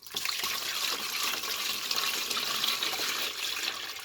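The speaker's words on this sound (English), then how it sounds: "Get a bit of water in this bucket," Water pours steadily from a tap into a bowl, producing a continuous splashing hiss at moderate loudness, with no one speaking.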